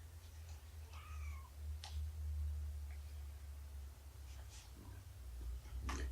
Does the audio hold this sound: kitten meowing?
yes